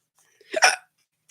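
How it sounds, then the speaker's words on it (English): A single sharp, close hiccup bursts out in a quiet room, followed by the faint start of another catch of breath. "I got the hiccups."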